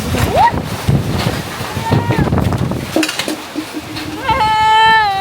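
A sudden storm's strong wind roars and buffets the microphone at an outdoor pork barbecue, while people shout and talk over the gusts.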